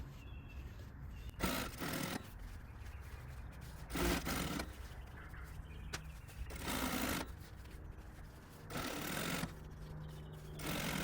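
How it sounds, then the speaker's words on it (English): A sewing machine stitches a corset seam in several separate bursts of fast mechanical whirring, each a second or so long, with quiet pauses of fabric handling between them. "Next seam, push it up, make sure there's no boning, continue sewing."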